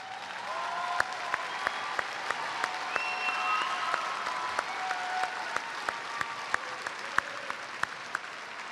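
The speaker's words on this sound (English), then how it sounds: "Those students, please stand so that we can applaud your hard work," Graduation audience at Mount Rainier High School applauds IB diploma candidates, a steady wash of distant clapping with occasional sharper nearby claps standing out, no talking.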